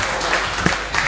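Audience applause swells briefly at a Hindi kavi sammelan poetry recital, a short, dense burst of clapping with no speech over it.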